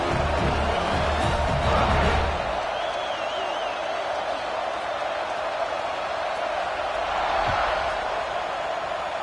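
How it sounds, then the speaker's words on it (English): A stadium crowd at a college football game in NCAA 26, Auburn vs Utah, makes a steady, dense roar that swells slightly near the start and again later. "this crowd is buzzing after that last score"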